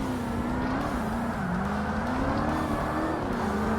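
Engine of a TVR race car in Forza Motorsport, a steady loud droning tone that swells and dips slightly as it passes, continuous with no talk.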